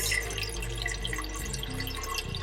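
A steady stream of water runs and splashes into a cooking pot, continuous and close, with the pitch shifting slightly as it fills.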